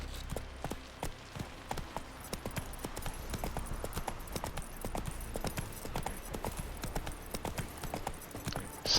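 Roach, a horse in The Witcher 3, trots with steady, close clip-clopping hoofbeats over a low ambient bed, a rapid even rhythm throughout.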